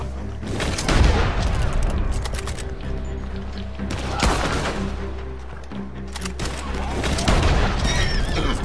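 Repeated gunshots ring out in Red Dead Redemption 2 Online during a legendary bounty hunt for Cecil C. Tucker, loud broadband cracks in scattered bursts over a constant game-world rumble.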